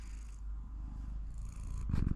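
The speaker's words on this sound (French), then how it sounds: "Oh, tu ronronnes." A cat purrs close by in a steady, continuous low rumble that runs the whole time, with a brief burst of louder movement or rustling near the end.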